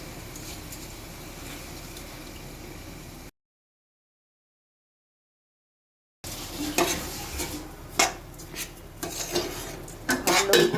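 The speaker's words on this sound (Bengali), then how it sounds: "ধুয়ে রাখা পোলার চাল, মুগ ডাল আর মসুরের ডালগুলো দিয়ে চালটা কষাবো" Washed polao rice with moong and masoor dal being stirred and sautéed in a pan, a soft sizzle with scraping utensil strokes; a gap of silence midway, then louder irregular stirring scrapes and clinks.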